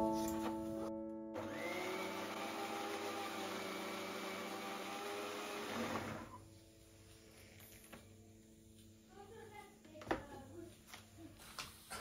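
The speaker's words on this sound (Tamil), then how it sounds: "அரைச்சிக்கணும்." A kitchen mixer grinder whirs loudly while grinding sautéed onion, tomato and coconut for kuzhambu, running steadily for several seconds before stopping, followed by faint clinks and handling noises.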